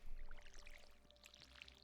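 Water pours into a watering can in Stardew Valley with soft bubbling splashes and tiny droplet plinks, faint and brief, with a low steady hum underneath.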